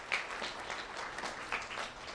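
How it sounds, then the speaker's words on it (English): Applause from an audience welcoming Thomas Kostovsky, a Three Oaks Elementary School student, at a recognition event; a steady, moderately loud wash of clapping carries on unbroken for a couple of seconds with no talk over it. "Let's have a round of applause for Thomas Kostovsky."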